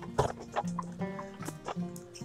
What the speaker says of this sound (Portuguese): Vou alimentar as galinhas aqui, que elas estão com fome.